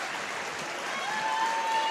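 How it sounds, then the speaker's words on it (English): Basketball home fans in a gym applauding as the starters check out of a Section V Class C1 semifinal, a steady, moderately loud crowd clapping with a faint tone running through the second half. "a big round of applause from Marcus Whitman faithful as the starters check out"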